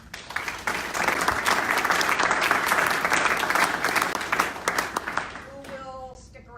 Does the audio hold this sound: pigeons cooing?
no